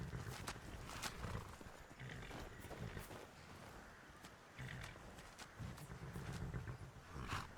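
A horse in the Skyrim video game walks away, its hooves giving faint, irregular clip-clops over a low, steady outdoor ambience, with no talking.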